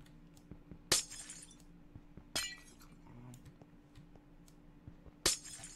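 Glass blocks shatter in a blocky Minecraft-style game, three sharp separate breaking crashes spread over a few seconds against a quiet background of soft clicks.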